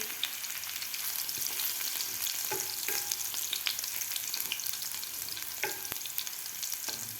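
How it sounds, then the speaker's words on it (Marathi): Crushed garlic sautéing in a pan for a methi phala dish, a constant soft sizzle with occasional faint scrapes of a spoon, close and low in level, no talking. "लसूण आपल्याला थोडासा परतून घ्यायचा आहे"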